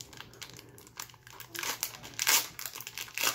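A 2021-22 Upper Deck Series One hockey card pack wrapper being torn open down the middle, giving close, crinkling plastic crackles that grow louder in bursts, with no talking.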